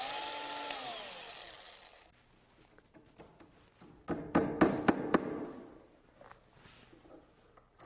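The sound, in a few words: drilling holes in wood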